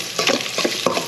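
Chopped onions sizzle and get stirred in a hot frying pan, a steady close crackle with several scraping strokes of the spatula across the pan.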